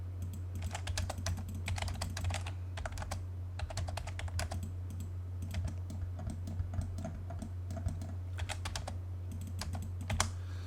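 AutoCAD commands typed on a computer keyboard, a steady run of quick, light key clicks in bursts with brief pauses, close and clear over a constant low electrical hum.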